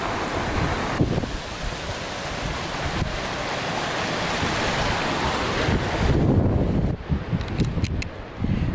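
Waves on a beach along the Crackington Haven coast path in Cornwall: a continuous loud roar of surf heavily mixed with wind buffeting the microphone, growing stronger toward the end.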